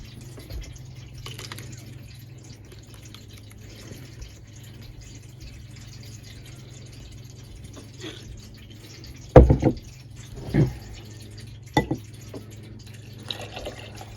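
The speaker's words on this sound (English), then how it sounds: "Just need to tip off that water." Water from a jar of sprouting seeds trickles and splashes in a few short bursts, dripping and pouring briefly against a steady low hum, with quiet stretches in between.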